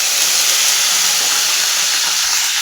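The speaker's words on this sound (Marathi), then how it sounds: "कांदा चांगला भाजून घ्यायचा 1-2 मिनिटं, त्याचा कच्चेपणा निघून जाईपर्यंत" Onion and garlic sizzle steadily in a hot pan while cooking for a drumstick masala curry, a loud, continuous, close hiss that holds evenly throughout with no talking.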